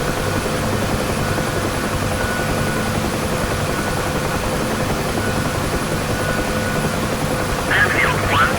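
An in-game UH-1 Huey helicopter taxis at an airfield, its rotor and turbine making a steady, droning hum with rhythmic low thumping, and a radio voice speaks over it.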